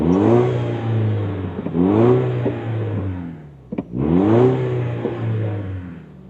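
Toyota turbocharged four-cylinder non-hybrid engine revving through a black chrome exhaust tip on a 2024 Tacoma TRD Off Road, two strong rising revs separated by a short pause, close and loud.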